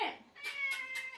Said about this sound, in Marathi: तर मांजर आलं आता